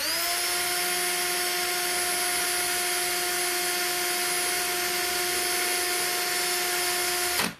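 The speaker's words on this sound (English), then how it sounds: "My drill bit is tired of drilling these apparently." Power drill with a dull bit boring a hole through the center of a garden DIY item: a steady, high motor whine held close and loud for about seven seconds before it stops abruptly.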